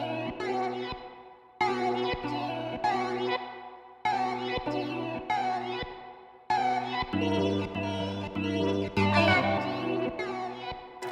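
A drum sample chopped by transient in an FL Studio sampler plays as repeating cut segments, choppy bursts of layered tones with punchy bass hits and echoing effects looping in a rhythmic hip hop pattern, with no talking.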